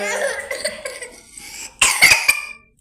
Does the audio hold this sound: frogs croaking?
no